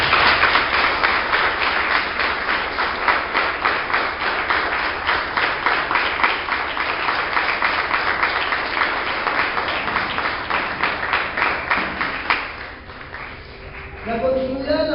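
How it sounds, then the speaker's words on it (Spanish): Church congregation applauding, a long run of fast rhythmic clapping that stays loud for about twelve seconds and then trails off into a quieter pause. "Dale un aplauso al Señor"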